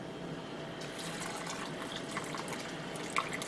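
Liquid poured steadily into a canning jar of pork and beans, a continuous close splashing gush with a faint clink near the end.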